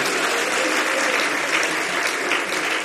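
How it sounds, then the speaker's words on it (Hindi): A large crowd claps loudly and continuously at a Jain religious ceremony in India, a thick, steady roar of many hands with no pause. "तालियां तो बजा रहे हो, थोड़ा जोर से बजा दो।"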